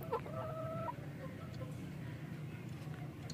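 An Aseel hen clucks in its coop while laying eggs, a short burst of close, nasal calls early on, then quieter rustling and faint distant bird sounds.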